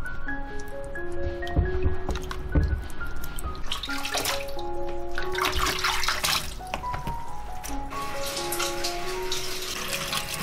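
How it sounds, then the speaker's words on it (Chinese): Zucchini, carrots and shiitake mushrooms are washed under a running kitchen faucet, with steady splashing water throughout, occasional louder splashes and clinks from handling, and no talk. "来把西葫芦、胡萝卜还有香菇洗干净。"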